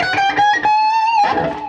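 A guitar amplifier's power amp starts breaking up into a slightly gritty, creamy overdriven tone as a short phrase of sustained guitar notes plays up close.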